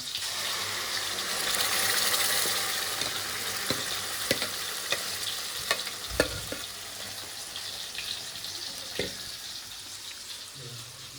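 Masala paste being added to sautéed onions and fried in a pan in a Malvani home kitchen, a steady close sizzle with scattered clicks and scrapes of stirring, and a faint voice now and then.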